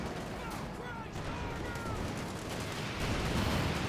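Calliope rocket artillery fires in a Company of Heroes 2 battle, a dense, continuous rumble of barrage and gunfire that swells toward the end.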